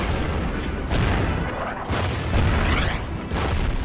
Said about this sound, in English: Start bombing the tank.